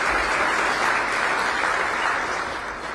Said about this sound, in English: Let us acknowledge the hotel staff for their service today with their round of applause.